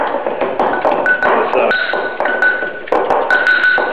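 Repeated hard taps and clinks of a pestle pounding garlic in a mortar, a steady knocking rhythm with ringing metallic pings, close and fairly loud.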